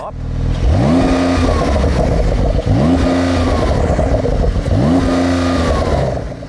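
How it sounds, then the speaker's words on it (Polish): A Porsche 911 R with a turbocharged engine revs loudly through its exhaust in three repeated surges, each climbing and falling, close and continuous with no talk over it. "Zwiększa obroty."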